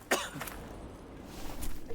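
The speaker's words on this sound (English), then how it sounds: "Cough, cough, cough, cough." Two sharp coughs break through a quiet room during a game livestream, one near the start and another toward the end, each short and fairly close to the microphone.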